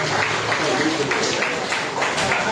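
Audience applause welcoming the chief guest at a ceremony, steady dense clapping throughout, fairly loud and close.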